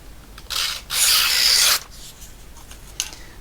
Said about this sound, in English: If I take the paper out